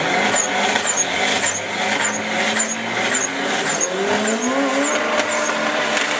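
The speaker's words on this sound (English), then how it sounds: "These ones will backfire." A Dodge SRT4 Neon race car roars loudly alongside other racing engines with revving and tire squeal, under a steady blanket of engine noise and sharp crackles that may be backfires.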